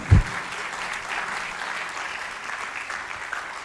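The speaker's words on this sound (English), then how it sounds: "We can give them a round of applause" An audience at a Gita Jayanti gathering at Bhaktivedanta Manor breaks into applause, a steady even wash of many hands clapping, moderately loud and sustained after a single low thump at the start.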